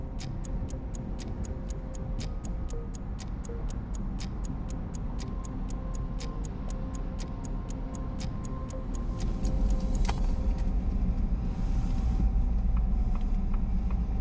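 A Volvo 240 driving on a long road trip: a steady low engine and road rumble inside the car, with a regular ticking like a clock or indicator running throughout, the drone growing a little louder toward the end.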